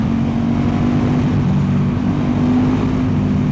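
KTM 1290 Super Duke R motorcycle with a very loud exhaust, a steady close engine drone with a constant low hum, heard alone without talk.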